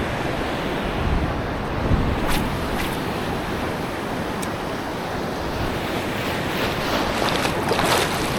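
Big ocean waves surge around a boat at sea, a loud, dense, unbroken roar of surf and wind buffeting the microphone, with a few sharper splashes and no talking.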